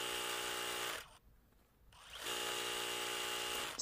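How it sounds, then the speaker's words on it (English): An electric sewing machine runs steadily while stitching a quilt seam, with a loud continuous motor whir that briefly stops for about a second before starting up again at the same even speed. "We're at the sewing machine again, and now our quilt is going to start growing in size as we join our rows together."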